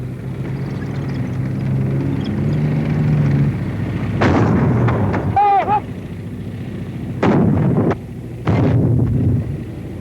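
A 37mm anti-tank gun fires several loud, sharp blasts in sequence, each with a booming report and rumbling decay, over a windy outdoor background.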